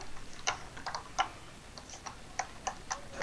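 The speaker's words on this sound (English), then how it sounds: "What are you typing now?" Keyboard typing during a Town of Salem game: quick, light clicks in irregular clusters, close and crisp against a faint background hiss, with no talk.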